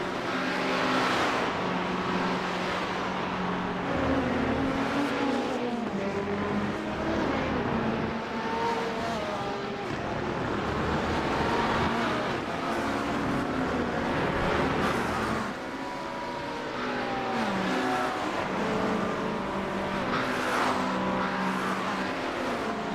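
Race cars, including a McLaren, lap Road Atlanta in a sim racing game during a Petit Le Mans event: loud, continuous engine whine rising and falling through gear shifts and passes, with no talking.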